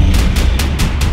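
Gunfire in Max Payne 3: loud, dense bursts of shots with booming low rumble, about four distinct blasts in quick succession over a continuous roar.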